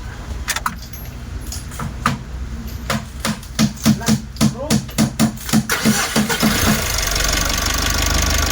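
A car engine cranks in a rapid series of even pulses, then catches and settles into a steady idle, with a few clicks and clatters beforehand.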